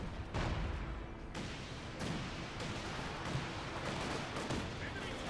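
Artillery and gunfire sound in the World War II strategy game Company of Heroes 2: heavy booming impacts land over a constant rumble of battle, with several sharp blasts standing out near the start.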